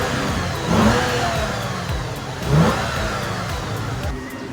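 A car being test driven after its spark plugs were cleaned runs with a steady mid-range engine drone that swells twice into revving surges, heard close from inside the vehicle.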